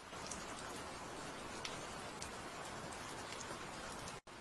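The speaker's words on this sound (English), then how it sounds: "Rain falls after a long drought, and the sound alone stirs the spirits of history." Steady rain falls after a long drought, an even wash of hiss and patter with scattered distinct drops, heard alone throughout before a brief cut near the end.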